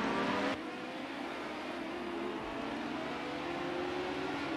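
Ford Sierra Group A touring cars race at the Red Bull Ring in Project CARS 2, their engines holding a steady, loud droning roar without breaks, with one sharp change in pitch near the start.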